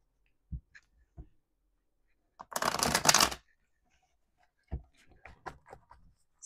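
Oracle cards riffled for a nine-card spread: one brisk burst of shuffling lasting about a second, framed by scattered soft taps and handling noises, close and fairly quiet with no talk.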